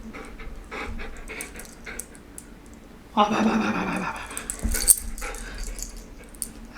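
Impatient puppy panting in a sudden loud burst with a brief high whimper, close by, while someone speaks a word nearby.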